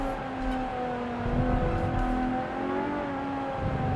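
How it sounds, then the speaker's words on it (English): A fan car with downforce fans drives in BeamNG, giving off a steady engine drone with whirring harmonic tones that rise and fall slightly, close and continuous with no talking. "It's also a fan car, so we've got fans holding us to the ground and creating more downforce"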